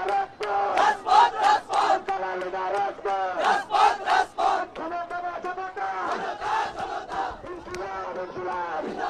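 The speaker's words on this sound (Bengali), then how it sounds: "আমরা দেখছি এখানে স্লোগান দিচ্ছে এনসিপির কর্মী সমর্থকরা।" Crowd of NCP supporters chanting slogans at a political rally in Bangladesh, rhythmic call-and-response shouts rising and falling in repeated bursts, loud and fairly close.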